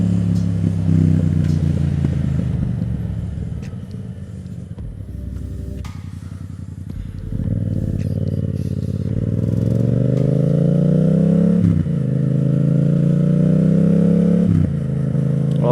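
A Yamaha MT-07 motorcycle accelerates on a ride, its engine droning loudly and rising in pitch through repeated gear changes, with short drops at each shift and steady wind and road rumble.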